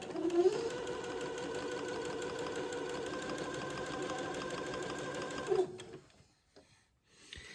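A sewing machine stitching a tiny French seam along the edge of a gown, running in one steady, rhythmic whir for about six seconds before stopping, with faint handling sounds afterward.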